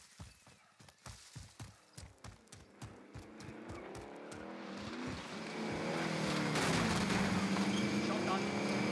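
In the video game Warzone, a light vehicle starts off after a series of regular footstep-like thuds, its engine droning louder and rising steadily as it drives away.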